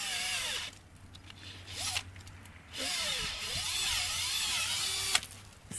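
A power drill whines in bursts, bit grinding into the wood of a maple tree, with short pauses between runs; fairly faint and steady, no talking.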